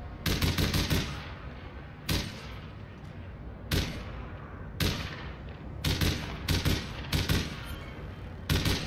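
Sniper rifle fire in APB Reloaded: sharp, loud single cracks, about a dozen spread irregularly with gaps between them, no talk.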